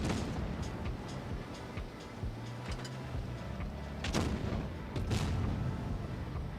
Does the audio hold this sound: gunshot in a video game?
yes